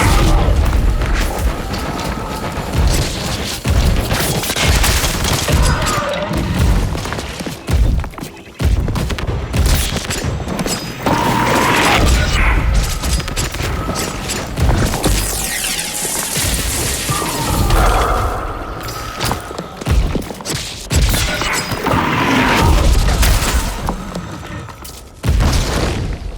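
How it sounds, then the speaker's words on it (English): Environment objects blowing up during a boss fight in the video game Rotwood: a dense, loud stream of crashing booms and smashing impacts with metallic clatter, continuous and relentless with brief surges, no talk. "every time I destroy the environment, they explode"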